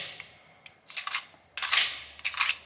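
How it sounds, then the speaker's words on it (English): Sharp metallic clicks and clacks from the magazine release of a Beretta 96 Brigadier .40 caliber pistol, three main bursts in close succession, near and crisp against quiet. "we got our tiny little mag release over here, which is not ambidextrous, but works very well"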